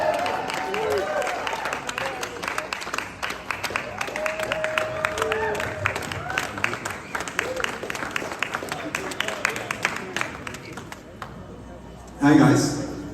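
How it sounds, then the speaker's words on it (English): An audience at a Las Vegas F1 event applauds, its scattered clapping and cheering going on under people talking before it fades out. "Please give a applause."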